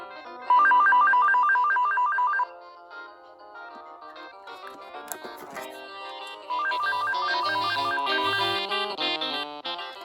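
Loud electronic warbling rings from an AT&T Jazz cordless phone come in two bursts separated by a stretch of jumbled melodic tones, with no one speaking.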